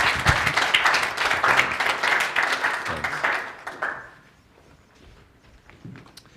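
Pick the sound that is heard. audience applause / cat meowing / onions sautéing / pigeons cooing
audience applause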